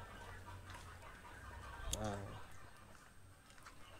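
Bantam chickens cluck on a small farm, with one louder call standing out midway through a quiet, continuous background.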